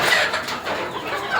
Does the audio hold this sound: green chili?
no